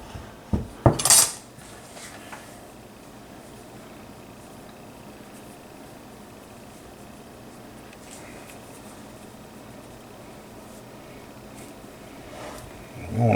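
A Dutch oven pot for apple cobbler clanks as it is moved and handled, a quick cluster of loud metallic knocks and scrapes near the start, then steady low background rumble with faint handling noise.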